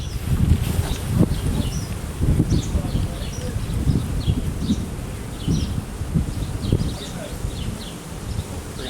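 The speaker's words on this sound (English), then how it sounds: "we're gonna shake the bees off this frame" Honey bees shaken off a hive frame buzz in a dense, agitated swarm close by, with irregular rustling thumps and bursts running throughout.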